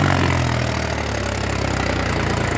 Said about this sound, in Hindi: ही देखो कैसा जोर मार रहा ट्रैक्टर भाई